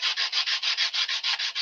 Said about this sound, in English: sanding off the edges and not the center.